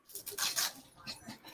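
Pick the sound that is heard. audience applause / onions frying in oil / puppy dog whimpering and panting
puppy dog whimpering and panting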